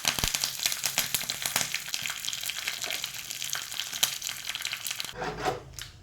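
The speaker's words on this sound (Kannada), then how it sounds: "ಒಣಮೆಣಸು, ಸಾಸಿವೆ ಸಿಡಿಯುವಾಗ ಕರಿಬೇವಿನ ಎಲೆ ಹಾಕಿಕೊಳ್ಳಿ." Dry red chillies, mustard seeds and curry leaves sizzle and splutter in hot oil for a tempering, a dense crackling fry that runs steadily, then softens into a duller hiss near the end.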